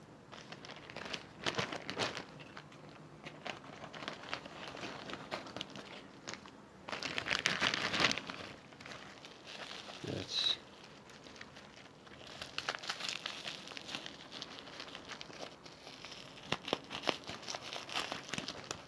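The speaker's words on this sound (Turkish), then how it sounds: "Şimdi kargomuzu sizlerle beraber açalım." Packaging crinkles and tears as a parcel holding mahjong-tile prayer beads is unwrapped, with bursts of close rustling and crackling on and off for about nineteen seconds and a louder stretch near the middle.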